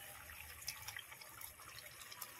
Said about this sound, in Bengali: পরিমাণ মতন দিয়ে দেবো জল